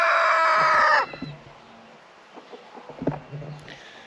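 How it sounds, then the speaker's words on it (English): A backyard rooster crows loudly and close for about a second, then the flock of chickens answers with scattered squawks and clucks at a lower level. "Screech has started them all off squawking, so Rufus is just responding to Screech"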